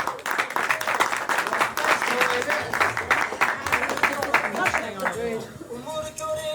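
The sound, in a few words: applause for speaker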